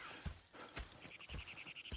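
Horses in Red Dead Redemption 2, hooves clopping in an irregular rhythm with soft snorts and a faint whinny, close and fairly quiet.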